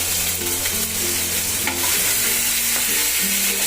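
Asafoetida and ginger-chili paste frying in hot oil, a dense close sizzle with light stirring scrapes over a low steady hum, continuous and without voices.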